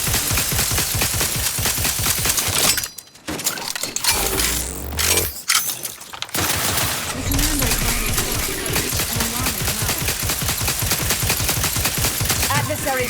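Rapid automatic gunfire from The Outer Worlds 2 video game, dense loud bursts of shots with a brief lull of quieter effects partway through before the firing resumes.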